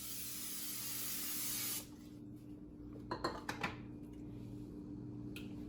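Non-stick cooking spray hisses in a steady burst for nearly two seconds onto a heated pan, followed by a few light clicks and knocks of the can and pan in a quiet kitchen.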